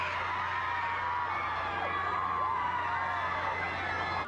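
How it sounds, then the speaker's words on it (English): Crowd outside a courthouse cheers and whoops after a celebrity is acquitted, a continuous wash of distant voices and shouts held at a steady level for several seconds. "Outside, the crowd erupted in cheers."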